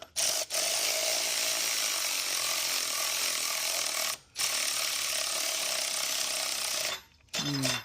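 A battery-powered impact tool tightens a bolt on a Ford Bronco during a Godzilla engine swap, rattling in long loud bursts close by, with short pauses between runs and a low-battery sound to it.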